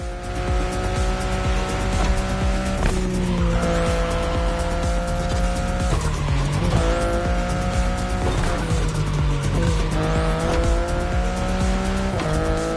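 A BMW i8 driving hard in The Crew Motorfest, its engine droning steadily with rising and falling revs and shifting tones, tires squealing now and then, loud and continuous without talk.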